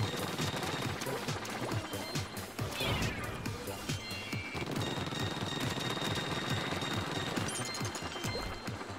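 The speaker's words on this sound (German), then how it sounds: "Und mit der Sniper muss ich jedes Mal nur für einen einzigen Schuss aufladen." Sniper weapon shots fired in the Splatoon 2 video game, with dense rapid impacts and bursts spread across a busy, loud game soundscape, with no voices.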